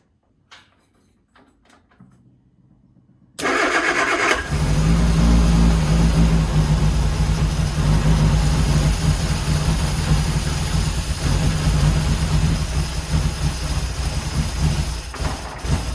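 A 1971 MG Midget engine cranks and catches after a quiet start, then settles into a loud, steady idle with the choke out, running continuously close by for the rest of the clip.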